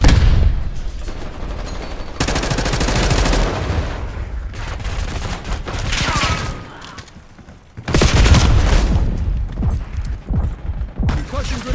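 A stun grenade and heavy gunfire in a video game, sounding as dense, loud bursts of rapid shots and booms that come in waves with brief lulls between them, with occasional game voice callouts mixed in.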